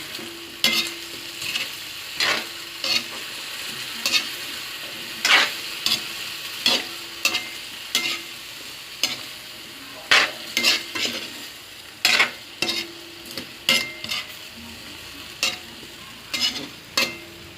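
Chicken adobo sizzling in a pan with a splash of soy sauce, stirred over and over; frequent, uneven spatula scrapes and clacks ride a constant close frying hiss, no voices.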